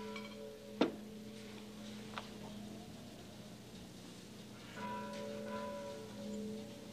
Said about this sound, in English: The bells in the chapel, senor.